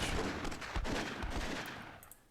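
Cannon fire in the fantasy strategy game Myth II Soulblighter, a loud burst of booming shots and crackling blasts crowding together in quick succession before fading out.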